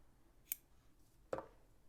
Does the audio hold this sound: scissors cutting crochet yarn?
yes